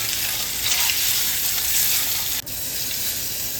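Large pieces of potato frying in oil in a pan, a loud continuous sizzle and hiss close up, steady throughout with a brief dip near the end.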